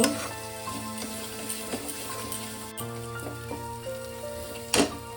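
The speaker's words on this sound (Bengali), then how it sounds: "দিয়ে আমি আবারও ভালো করে মশলাটাকে কষিয়ে নেব।" Spice paste with ground coriander fries in a pan, a close, steady crackling sizzle under a faint constant hum, with a few louder spits and a scrape of stirring near the end.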